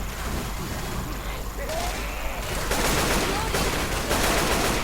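Gunfire in Left 4 Dead 2 on the No Mercy map, a dense continuous clatter of automatic weapons that swells louder in the second half, with voices talking over it.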